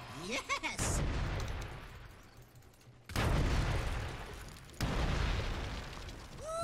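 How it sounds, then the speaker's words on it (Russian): Barrel explosions in the Dota 2 custom game BomberMan: three loud, heavy booms a couple of seconds apart, each with a rumbling decay, mixed with game sounds and a voice. "Взрыв."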